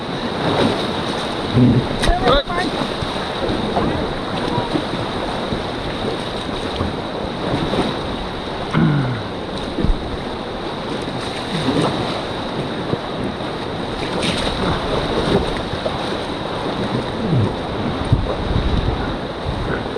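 Choppy, mixed waves wash and slap around a raft on the Indigirka river, a loud continuous rush of water with wind buffeting the microphone and occasional splashes.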